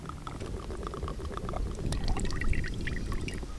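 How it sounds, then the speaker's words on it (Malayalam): Oil pours into a frying pan before frying potatoes, a soft, steady close-up trickle that swells slightly toward the end. "ഇനി ചട്ടിക്കകത്തോട്ട് നമുക്ക് എണ്ണ ഒഴിച്ച് കൊടുക്കാം."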